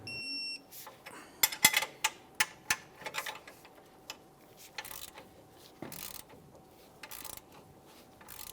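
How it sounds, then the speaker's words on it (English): A ratcheting torque wrench tightens suspension bolts to 60 foot-pounds during a steering knuckle job, giving a run of sharp, close clicks, some clustered and some spaced apart, with no voices. "Go ahead and torque those to 60 foot-pounds."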